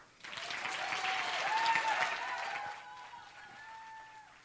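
An audience applauds to welcome Jack Kimball, a former state Republican Party chairman, with steady clapping that swells, holds for a couple of seconds and then thins out, plus a few faint tonal sounds mixed in.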